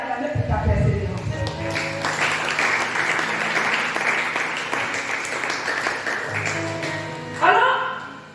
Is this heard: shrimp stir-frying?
no